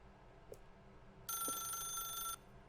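A telephone ringing in the video game The Stanley Parable, a bright electronic ring lasting about a second after a couple of faint clicks, fairly quiet and alone.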